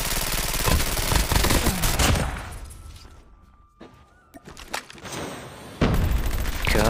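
Bursts of automatic gunfire from bot enemies in Call of Duty Mobile, loud and dense at first, then fading to scattered distant shots before another heavy volley breaks in, with no talk.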